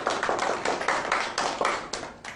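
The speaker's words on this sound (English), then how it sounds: "let's give Hakisha's group a big clap" A primary school class clapping together for a group, a quick run of about a dozen close, slightly uneven claps with no talk.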